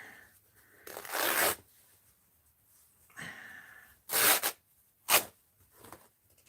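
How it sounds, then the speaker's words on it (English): Paper tears in an art journal in several short bursts of rough ripping, with quiet gaps between them and a few quicker rips near the end, close and fairly soft. "I want to tear here if I can."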